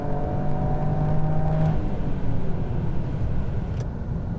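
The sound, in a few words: Toyota GR Yaris accelerating hard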